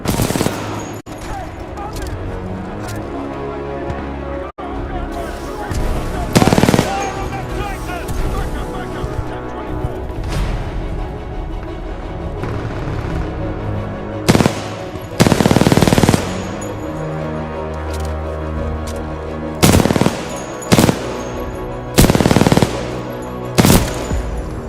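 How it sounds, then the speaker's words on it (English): Machine gun supporting fire in the Titanfall 2 video game, rapid bursts of automatic gunfire repeating in several loud clusters over a steady rumbling battle backdrop. "Commencing supporting fire."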